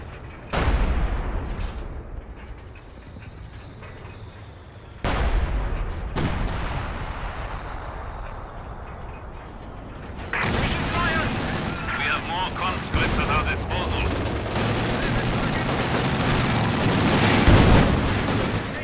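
Artillery fire in Company of Heroes 2: heavy booming blasts land at intervals, then the barrage thickens into a dense, roaring wall of explosions and battle noise, loud and close.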